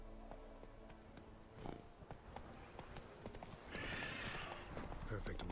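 A horse in the video game The Witcher 3: Wild Hunt clip-clops steadily, its hooves striking in a quick, regular rhythm, with game ambience and a brief noise burst layered underneath.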